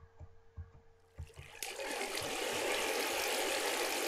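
Rushing water of a fountain in a video game, a few soft splashes and trickles that swell after a second or two into a loud, steady wash of spray and mist.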